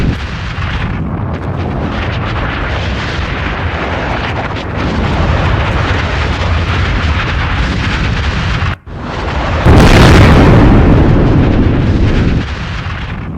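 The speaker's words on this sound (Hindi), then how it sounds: "कई जगहों पर जोरदार धमाका सुना गया" Heavy booming explosions from an Israeli attack on Iran and rumbling blasts continue throughout, loud and distorted, with a sharp cut and then an even louder roaring burst near the end.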